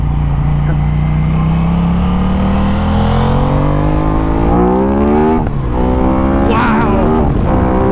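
Aprilia RS 660 sport bike engine revving on a first ride, a loud, steady engine note climbing in pitch as it accelerates through the gears, with brief shift dips and wind noise throughout.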